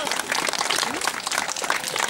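Audience applause at an outdoor zoo birthday celebration in Stara Zagora, steady dense clapping mixed with crowd noise and voices throughout.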